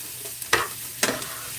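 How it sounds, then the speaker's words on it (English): Green beans with smoked turkey, sliced onion and fresh garlic sauté in a skillet under a low steady sizzle, broken by two sharp stirring scrapes of a utensil against the pan. "And I am just sauteing these"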